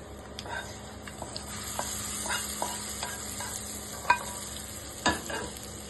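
Tempering of curry leaves, dried red chillies and chana dal, fried in oil with the stove off, is stirred into coconut chutney, giving a soft continuous sizzle with light scraping and a few sharp clinks of a spoon against the pan.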